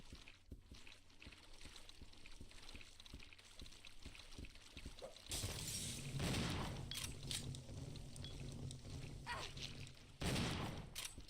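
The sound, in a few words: shotgun fire in video game Resident Evil Zero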